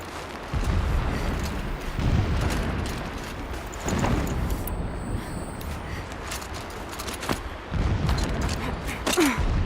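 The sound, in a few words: distant explosions in a video game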